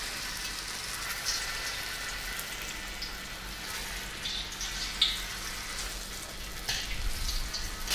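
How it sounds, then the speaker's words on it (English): Cornflake-coated pieces frying in hot oil, a steady, close sizzle and crackle that runs unbroken with a few brief pops and no talking. "drop it into the cornflakes, the oil is hot, drop it in the hot oil"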